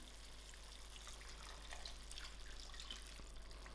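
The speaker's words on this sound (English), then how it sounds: "This is 2 cups of water that I'm going to add in." Two cups of water are poured into a pot of mutton curry with cauliflower. A faint, steady splashing trickle runs throughout under a low background hum.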